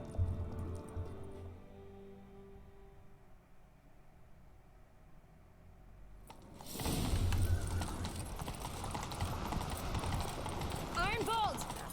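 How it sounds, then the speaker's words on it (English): A horse gallops in the video game The Witcher 3. After a quieter opening, loud, rapid hoofbeats begin midway and continue steadily amid game ambience. "Grab a horse, we'll chase him down."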